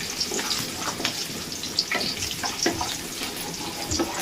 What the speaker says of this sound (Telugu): మినప్పప్పు, పచ్చిమిర్చి కొంచెం వేగాలి.